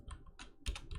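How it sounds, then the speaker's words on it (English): Keys tapped on a computer keyboard, a few quick clustered clicks in a short burst, close and fairly quiet. "Why can I press the stuff on my keyboard?"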